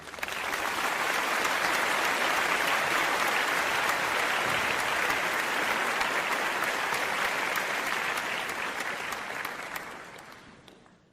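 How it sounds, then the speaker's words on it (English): A long burst of crowd applause added as a sound effect, dense and sustained clapping that holds steady before fading out toward the end. "I'll throw some applause in there"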